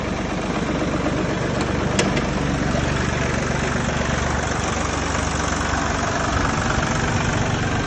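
An Iseki TU 245 compact tractor diesel with a glow plug idles just after starting, a loud, close, steady chugging rumble that runs evenly throughout with no speech.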